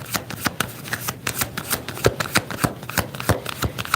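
Tarot cards being shuffled by hand, a steady run of crisp riffling slaps and soft card clicks, close and fairly loud, with no talking.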